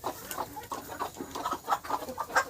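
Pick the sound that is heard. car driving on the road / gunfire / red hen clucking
red hen clucking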